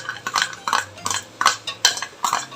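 A spoon clinks and scrapes rhythmically against a pot while stirring aval payasam with cashews and raisins, about a dozen quick, close metallic taps in an even beat.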